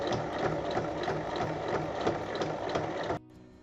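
A sewing machine runs a topstitch along fabric, a close, quiet rapid mechanical chatter of repeating needle strokes that stops abruptly near the end.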